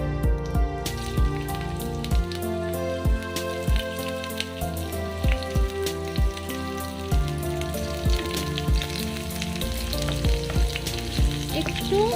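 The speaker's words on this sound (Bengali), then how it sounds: "তো পেঁয়াজটা আমার ফ্রাই হয়ে গেছে।" Chopped onion frying in about five tablespoons of oil for veg chowmein, a steady close sizzle with repeated sharp clacks of a spatula stirring against the pan throughout.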